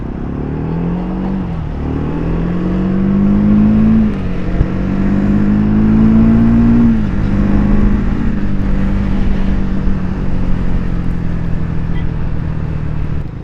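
Triumph Speed 400 motorcycle riding along, its engine note rising and falling through gear changes as it accelerates, a loud, continuous close-up drone with no talk.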